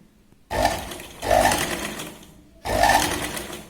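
Sewing machine stitching a Katori blouse, running in three loud close bursts with short pauses between, alone without talk.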